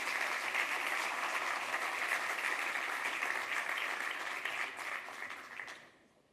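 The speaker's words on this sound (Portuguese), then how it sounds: "um grande estrondo e um grande aplauso" An audience applauds steadily as a speaker is welcomed onto the stage at a business forum, a dense sustained clapping that holds strong for several seconds before tapering off and dying out at the end.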